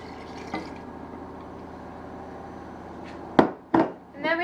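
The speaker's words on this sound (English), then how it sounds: "I'm just going to pour it all in." Homemade tonic poured into a container, a soft continuous liquid flow followed by a few sharp knocks and clinks near the end.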